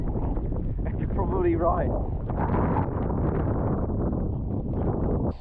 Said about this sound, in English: Because I can't hear him with all the wind.